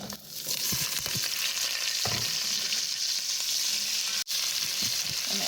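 Onions and carrots sauté for a low-carb beef stew, giving a steady, close sizzle and crackle with a few stirring scrapes; the sizzle breaks off for an instant near the end, then resumes.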